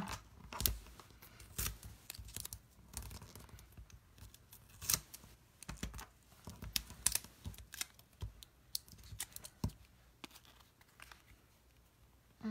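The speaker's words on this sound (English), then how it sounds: "So I'm just going to use some of this 3M tape, which I'm almost out of." 3M adhesive tape is pulled and snipped while a Christmas card is assembled, producing quiet, scattered crisp clicks and cuts in a still room with no talking.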